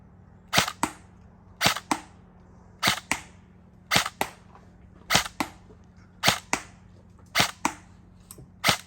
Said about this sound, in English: this will be the shooting test with the stock barrel. I'll take 8 shots.